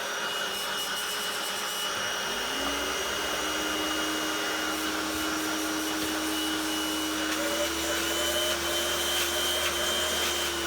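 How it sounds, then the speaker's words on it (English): A Hoover vacuum cleaner running steadily and loudly up close, a continuous whining drone with a slight pitch shift partway through and no voices. "This Hoover wins."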